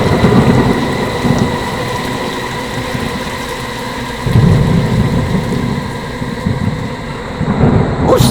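Steady heavy rain pours down while deep thunder rolls in twice, loud and close, a continuous rainstorm backdrop with no voices.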